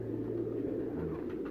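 Soft, continuous cooing from a flock of loft pigeons on a Faisalabad rooftop, an even low burbling murmur with no voices over it.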